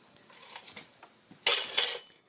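Dishes and cutlery clatter on a kitchen counter as it is cleared, soft shuffling at first, then a louder bright clinking burst near the end.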